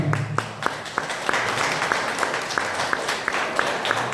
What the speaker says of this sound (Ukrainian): Низько вклоняюся вам і ці оплески для вас